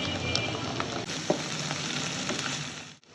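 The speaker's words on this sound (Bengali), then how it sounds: "এখন আমি দিয়ে দিব আদা রসুনের পেস্ট" Ginger garlic paste sizzles steadily in hot oil with fried onions for fish curry, a continuous close crackle with a few spoon scrapes, then cutting off abruptly near the end.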